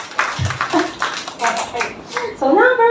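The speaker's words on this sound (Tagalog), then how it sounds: "pumalakpak naman po ang mga managers dyan" Managers clap their hands at a Filipino gathering, a few scattered claps mixed in with nearby talking and chatter, fairly loud and close.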